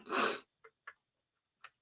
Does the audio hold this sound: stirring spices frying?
no